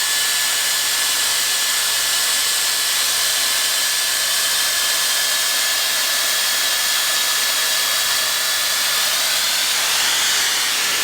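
A Dyson Airstrait straightener blows hard on a section of hair, a loud, steady airy roar with a faint high whine running the whole time, shifting slightly near the end, no talking.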